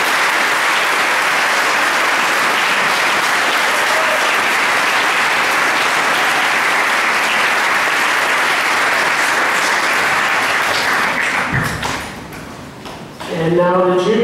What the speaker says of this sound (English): Now let's have a round of applause for the sophomore team.